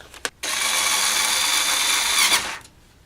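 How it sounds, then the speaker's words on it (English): Screws are driven in with a power driver while a replacement motorcycle... no, a replacement computer motherboard is installed: one steady, close whirring run of about two seconds after a brief tick. "we just got to get our 4 screws and put in there."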